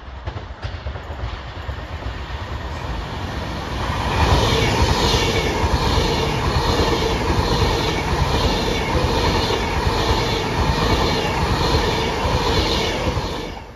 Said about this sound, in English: Before I was interrupted by the Pendolino